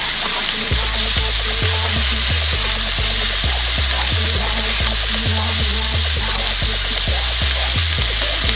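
Minced garlic fries in a hot pan for beef lo mein, a loud, continuous crackling sizzle with a regular scraping rhythm of stirring, no voices.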